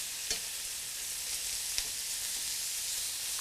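Onion hitting a hot frying pan gives a steady, fairly quiet broadband sizzle with a couple of brief clicks from stirring, and no talking.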